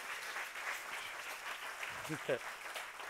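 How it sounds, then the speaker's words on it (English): Church congregation clapping during a sermon, a steady wash of applause running throughout, loud and close, with a voice speaking briefly near the end. "give the Lord a big hand clap."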